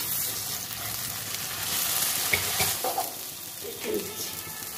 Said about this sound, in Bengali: ধোকাটা কেটে নিলাম, ভেজে নিচ্ছি।